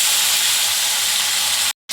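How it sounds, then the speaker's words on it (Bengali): Fish head coated in salt and turmeric frying in oil with dried chillies and bay leaves, a loud, steady hiss and sizzle that cuts out briefly near the end. "এর মধ্যে একবারে মাথাটা ভেজে নেব"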